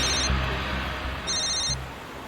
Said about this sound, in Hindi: विनीत का फोन